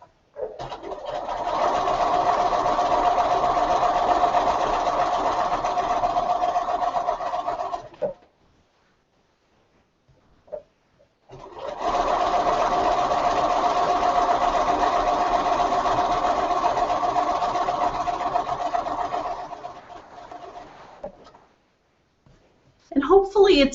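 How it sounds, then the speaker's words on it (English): Sewing machine stitching during machine quilting, two long steady runs of fast mechanical whirring, each about eight seconds, separated by a pause, loud and close with a brief sound at the end. "We're keeping each other company with the sound of our machine"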